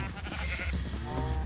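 Sheep in a video game farm bleat in a short, wavering call over a low droning background, fairly quiet and alone.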